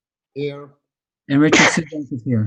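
A single sharp sneeze breaks out near the microphone during a roll call at a town planning and zoning commission meeting, with people speaking just before and after.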